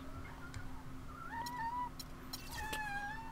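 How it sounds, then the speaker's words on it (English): A cat meows several times in a home, with drawn-out whining cries over a low steady hum, fairly faint and close. "Where'd my cat go? She was over here."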